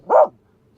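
A dog gives a single short, loud, close bark, after which the clip goes quiet.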